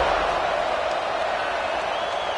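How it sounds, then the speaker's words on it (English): Football stadium crowd, Hurricanes versus Oregon, buzzing after a score: a dense, steady roar of many voices that stays loud and even throughout. "this crowd is buzzing after that last score"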